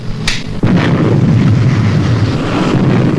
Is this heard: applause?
no